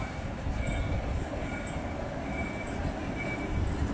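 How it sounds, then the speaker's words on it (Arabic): An old train in central Stockholm rolls in with a steady, broad rumble of wheels on rails and faint metallic squeals. The noise is continuous and moderately loud, with no voices. "هاي القطار القديم"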